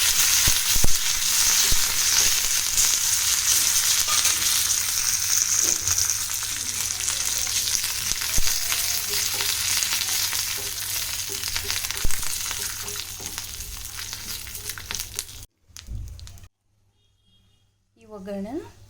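Peanuts, curry leaves and Byadgi chillies roast in a pan with a steady, close sizzle and occasional stirring scrapes, then the sound cuts out near the end before a brief quiet tail.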